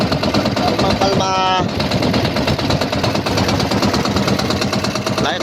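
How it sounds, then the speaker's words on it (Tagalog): A fishing boat's cold engine running at sea, a loud, steady rhythmic chugging throughout, briefly overlaid by a high tonal whine early on. "Ito yung makina natin, malamig"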